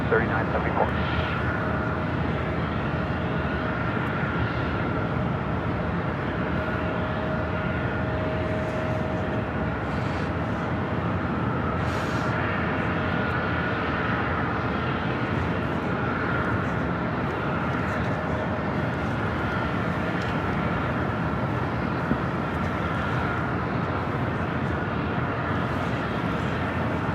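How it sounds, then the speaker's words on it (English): A Southwest Airlines Boeing 737 from San Jose, California, lands on runway 24 Right at Los Angeles International Airport. Its engines give a steady, continuous jet rumble with a faint whine, and indistinct voices are mixed underneath throughout. "Next arrival, Southwest Airlines Flight 3974, coming from San Jose, California"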